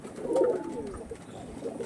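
A Pulsar-breed female pigeon coos softly in a few low, throaty pulses, fairly close and alone with no voices.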